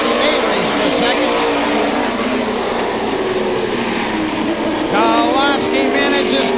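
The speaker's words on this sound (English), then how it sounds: "Kowalski in car number 88, race for second" Pro stock race cars roar around a short track at night in 1999, a constant loud engine drone with cars passing close, while an announcer calls the race over the noise.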